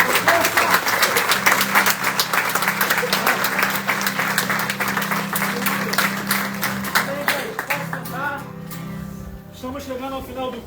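A church congregation applauds at a worship service, dense steady clapping that fills most of the stretch under music, then thins and fades near the end as a voice begins to speak.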